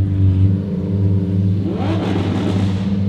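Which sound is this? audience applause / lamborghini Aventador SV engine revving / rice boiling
lamborghini Aventador SV engine revving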